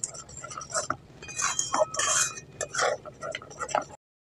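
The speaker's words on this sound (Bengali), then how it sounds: "বাদামগুলো দিয়ে এইভাবে করে একটু নাড়াচাড়া করে মিশিয়ে নিতে হবে" Peanut mixture being stirred in a pan for naru, with a spoon clinking and scraping in quick irregular strokes, close up, stopping abruptly near the end.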